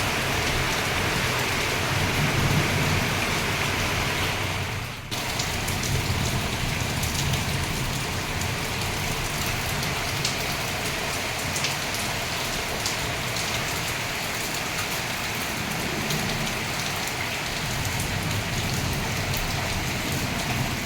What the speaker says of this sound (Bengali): দেখো এত পরিমাণে বৃষ্টি।